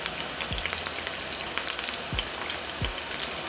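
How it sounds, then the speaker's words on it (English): Steady, dense sizzling and crackling of sausages shallow frying in a pan, continuous throughout with a few faint low thumps. "to this pan I'm going to be placing in my sausages"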